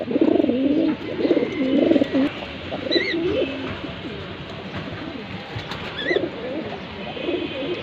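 Low, throaty coos repeat close by from several racing pigeons, with a few faint higher chirps scattered through.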